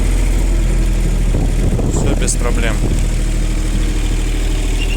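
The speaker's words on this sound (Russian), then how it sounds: "Работает экскаватор прекрасно, ровно. На газ отлично отзывается." A Japanese mini excavator's three-cylinder diesel engine runs smoothly at a steady idle, a loud constant low rumble throughout, with someone talking briefly over it.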